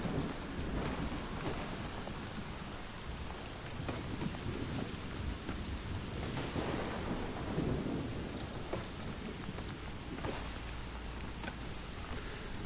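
Stormy rain and rolling thunder in the video game Gibbon: Beyond the Trees, a steady wash of dense rainfall with low rumbles swelling underneath, fairly faint, with no voices.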